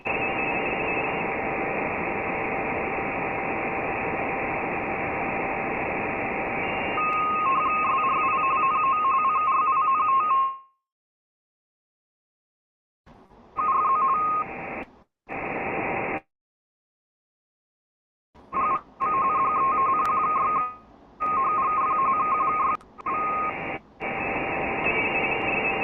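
Bursts of data transmission tones, a steady buzzy carrier with higher warbling tones, heard over a radio channel, loud and alone, broken by silent gaps before several shorter bursts.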